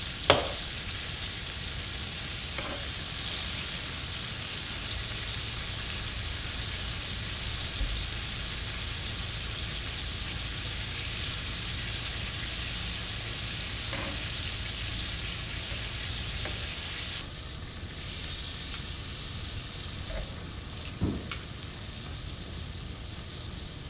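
Bourbon steaks searing on a hot griddle give a steady, even hiss that runs the whole time, with a couple of faint taps and no talking.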